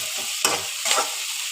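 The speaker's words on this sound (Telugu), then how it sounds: "ఇప్పుడు మొత్తం ఫ్రై చేసుకోవాలి" Sliced onions and curry leaves frying in oil in a pan, a close steady sizzle with two quick stirring scrapes and a brief crackle, no voices.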